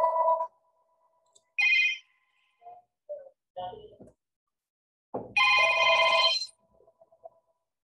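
A phone rings in short electronic bursts of tones, loud and close, with gaps of near silence between the chirps.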